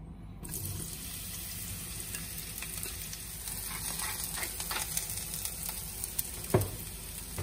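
Eggplant pieces fry in oil in a pan for ratatouille, giving a steady, close sizzle with crackles throughout and one sharp clatter near the end, with no talking.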